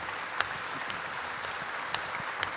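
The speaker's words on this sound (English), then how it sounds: "can we give them another round of applause?" A church congregation claps together in a sustained round of applause during a contemporary service, a dense even patter with a few louder claps standing out.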